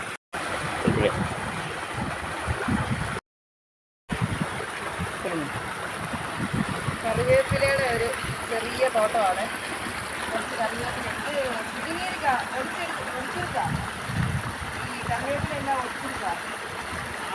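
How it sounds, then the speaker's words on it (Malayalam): Water rushing along a channel into a farm field makes a steady broadband wash with wind buffeting the microphone, while people talk over it throughout. "വെള്ളം ഇപ്പോൾ ഇങ്ങനെ വിട്ടുകൊണ്ടിരിക്കുന്ന ഭാഗമാണ് കാണുന്നത്"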